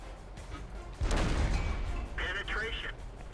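A tank cannon fires in World of Tanks at a T26E4 SuperPershing: one loud, close blast about a second in, followed by a rolling rumble and a brief metallic ringing tail.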